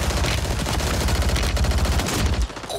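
Sustained rapid automatic gunfire in the shooter game Warzone 3, a dense, loud stream of closely spaced shots that keeps going for over two seconds before easing off briefly near the end.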